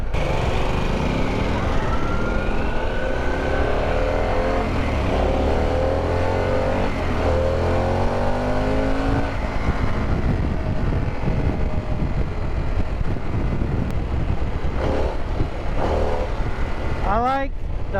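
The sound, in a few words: Harley-Davidson Pan America motorcycle riding, engine running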